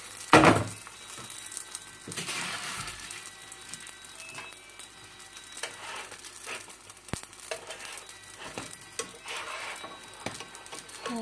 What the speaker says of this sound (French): J'ai mes mini bat-bout qui sont en train de cuire à côté.